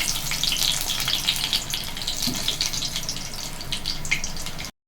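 Garlic and curry leaves hit hot oil with mustard seeds, giving a loud, steady crackling sizzle with sharp pops that carries on without a break before cutting off abruptly.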